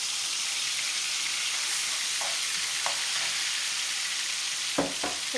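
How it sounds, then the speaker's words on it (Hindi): Ginger, garlic and green chili sauté in hot oil with a steady, moderate hiss, and a few soft clicks and scrapes of stirring come near the end. "ये अदरक लहसुन और ग्रीन मिर्च है। ठीक है, तो इसको 2 मिनट के लिए सोते करेंगे।"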